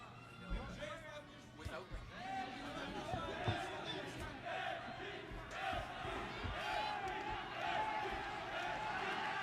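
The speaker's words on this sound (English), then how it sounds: "Crowd getting a little bit more vocal" A boxing arena crowd in Nagoya during Naoya Inoue vs. Akhmadaliev grows louder, with a broad murmur, shouts and cheers rising behind a commentator talking throughout.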